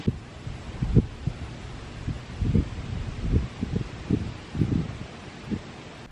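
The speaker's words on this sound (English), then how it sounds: "Hopefully this wind is not drowning it out." Low, buffeting wind thumps against the microphone in irregular gusts over a soft steady rush.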